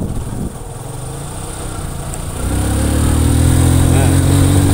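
A Yamaha Byson motorcycle engine with poor power and heavy fuel use revs steadily up to mid-high RPM, loud and close, its pitch climbing midway and then holding.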